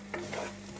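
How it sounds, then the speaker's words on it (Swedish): Frozen vegetables and rice sizzle faintly in a frying pan, with a couple of brief stirring scrapes over a low kitchen hum. "Sen lägger jag i mitt ris och får det steka tillsammans."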